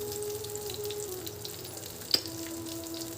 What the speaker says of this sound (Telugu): కొంచెం జీలకర్ర అనేది యాడ్ చేస్తున్నానండి.